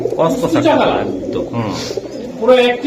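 Pakistani pigeons cooing at close range in a loft, with soft throaty coos repeating over about three seconds alongside other bird calls.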